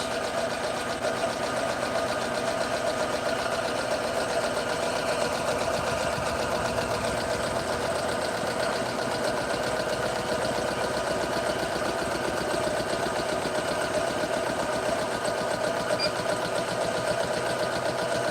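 A sewing machine runs a slow placement stitch while a purse is being sewn, giving off a continuous rapid mechanical whir with a fine, even needle rhythm and tonal hum, loud and close with no talking.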